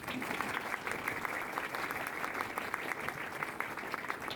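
An audience at a literature academy ceremony applauds the teachers, with steady, dense clapping that carries on evenly throughout and has a few sharper individual claps standing out.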